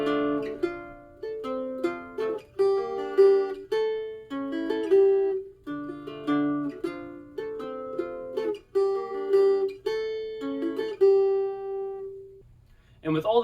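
A cuatro strummed in a montuno pattern, three strings at a time, with bright repeated chord stabs in a syncopated rhythm, played alone and up close.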